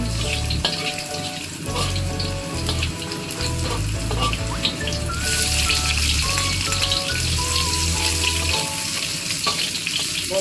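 Chopped onions and garlic fry in hot oil in a pan, browning with a steady crackling sizzle and bursts of popping, close and loud with no talk.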